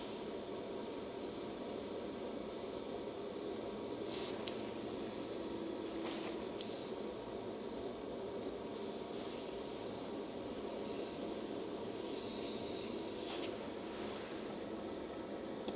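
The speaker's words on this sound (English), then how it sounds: "Beauty of these brushes is they deliver the paint so softly" A soft, continuous airy hiss of an airbrush spraying runs steadily, with a few brief breaks and small shifts in tone, and no talking.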